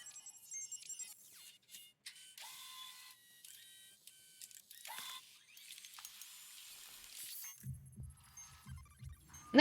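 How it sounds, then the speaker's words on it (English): A heartbeat in the Mass Effect 2 video game, heard as a run of low, soft thumps near the end after a long stretch of faint, high electronic tones. "did they get that heart beating?"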